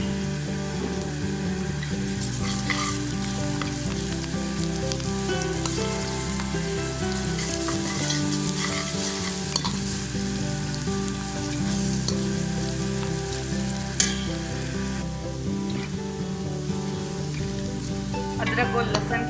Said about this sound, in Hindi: अब इसमें मैं लहसुन और अदरक का पेस्ट शामिल करूंगी।